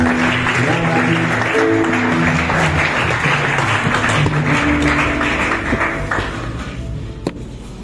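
A church congregation applauding and cheering loudly as a preacher steps forward, a dense continuous roar of clapping and voices that eases slightly near the end.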